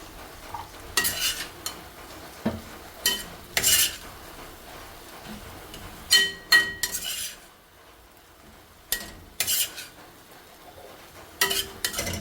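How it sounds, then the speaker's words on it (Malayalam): Cooked vegetables stirred into a vegetable kurma in a pan, a spoon scraping and clinking against the metal in irregular bursts over a faint sizzle, with quiet pauses between strokes. "ഇനി നമ്മൾ വേവിച്ച് വെച്ച പച്ചക്കറി ഇതിലേക്ക് വെക്കാം."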